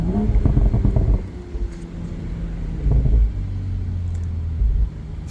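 A 2024 BMW Z4 M40i gives off a deep engine rumble with low droning tones that swell and fade, rising in two stronger surges, close and fairly loud.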